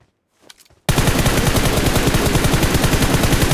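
A teammate sprays bullets in a shooter game, a sudden, sustained stream of loud, rapid machine-gun fire right up close that runs without a break after a brief murmured voice.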